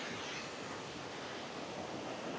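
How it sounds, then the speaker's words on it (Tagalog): A waterfall near Dumaguete City pours steadily, a broad even rush of falling water that fills the scene without pause. "ito na kaagad ang waterfalls"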